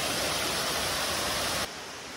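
Steady broadband roar of a waterfall at the Kolam Darah Baru pool in Pasie Raja, South Aceh, loud and continuous, dropping slightly in level near the end with no voices.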